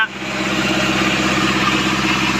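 Steady, loud drone of a high-pressure water pump engine held at about 30-40% throttle, pumping water from a dam up a 300-metre hill in Sangkhla Buri, Kanchanaburi, running evenly and close by without talk.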